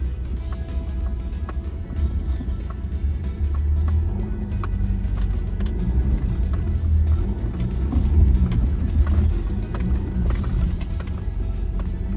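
Car engine in X mode climbing a rocky incline, a steady low rumble and drone with faint mechanical clicks and rattles throughout, fairly close and continuous.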